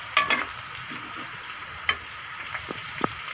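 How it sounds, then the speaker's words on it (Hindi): Onion, garlic and ginger fry in ghee with a soft, steady sizzle, broken by a few light stirring clinks and scrapes and brief louder pops. "दोनों को अच्छे तरीके से इसमें मिक्स करें और थोड़ा भून लें।"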